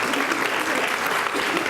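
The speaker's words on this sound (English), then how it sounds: "Let's give a round of applause for Coach Adriana Monge" Applause at a school board meeting honoring coaches, a short burst of dense, even clapping from a seated audience.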